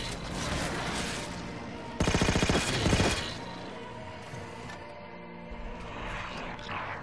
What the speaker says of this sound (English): The sentry gun is the most useful accessory ever.